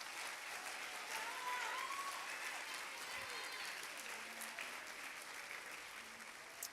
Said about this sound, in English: All right, let's give these students a round of applause.